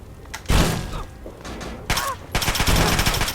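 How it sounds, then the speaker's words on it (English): Missile launcher fire in a video game: repeated loud blasts and bursts, each a broad explosive burst, with a thick dense volley in the final second. "Missile launcher."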